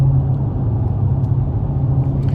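A Dodge Scat Pack car's engine heard from inside, a loud, steady low rumble with a constant droning tone running throughout, no voices over it.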